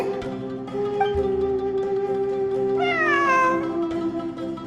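A cat meows repeatedly inside the video game Genshin Impact, with clear close meows and a rising, drawn-out wail near the end, heard alone without talk.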